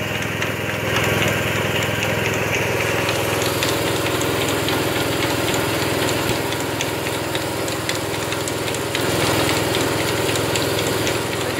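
A Crossley gillnet lifter machine runs with a steady, close mechanical drone and a faint knocking rhythm, unbroken for the whole stretch.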